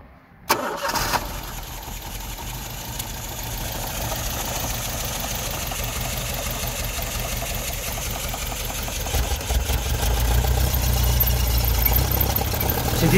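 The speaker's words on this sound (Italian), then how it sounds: "Sentite il carburatore, motore scorbutico." A cold carburetted Alfa Romeo 75 engine cranks and catches on first start, then settles into a rough, uneven idle that grows louder and deeper toward the end.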